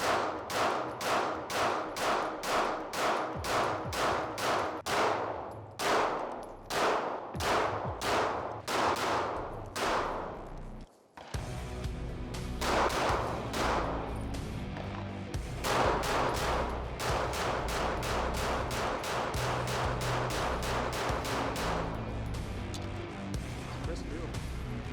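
A Wilson Combat 1911 double-stack 9mm pistol fires at an outdoor range in fast, steady strings of loud, sharp shots. Heavy overlapping fire follows a brief pause, and voices can be heard amid the shooting.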